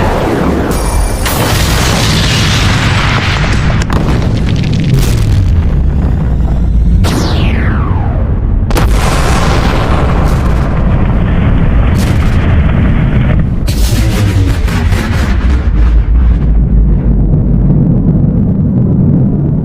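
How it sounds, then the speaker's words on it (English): A redesigned anime explosion effect for the Naruto Bijuu bomb unleashed by the ten-tailed beast: a series of very loud booming blasts and bursts with whooshing, sweeping debris layers, continuous and dense throughout. "This explosion is from Naruto, where the 10-tailed beast unleashes the Bijuu bomb"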